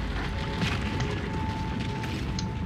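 A turret being destroyed in League of Legends, a sustained rumbling explosion that booms steadily for a few seconds with crackling bursts on top, loud and close, with no voices.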